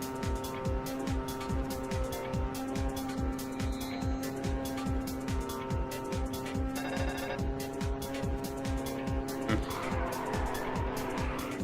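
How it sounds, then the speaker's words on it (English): Race car engines roaring in the arcade racing game Ridge Racer 7, a steady loud drone with rhythmic pulsing and tire squeal, close and continuous throughout. "when engines are near me, you can probably not hear me very well"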